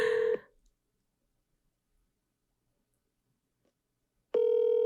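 A phone call rings out before going to voicemail, with a short electronic ring tone, a long stretch of near silence, then a second ring tone starting.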